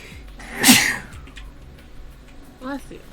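One loud, sharp sneeze close to the microphone, followed by a brief spoken voice about two seconds later.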